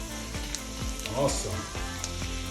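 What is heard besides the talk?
salmon sizzling in butter and garlic in a pan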